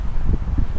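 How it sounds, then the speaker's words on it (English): Wind gusting outdoors ahead of an approaching storm in Perth, a steady, loud rush with low rumbling buffets against the microphone, heard alone without voices. "the wind's picked up"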